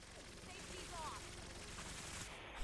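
Weapons firing in Fallout 4 with replica legacy weapon mods, a dense, continuous fusillade of overlapping gunfire roaring steadily, with a voice briefly heard beneath it.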